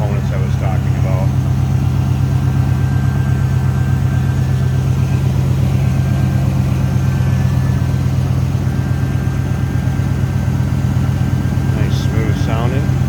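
A 1972 Chevrolet Chevelle with a 6-liter engine and automatic transmission idles smoothly, a steady low throb close by, with faint voices around it.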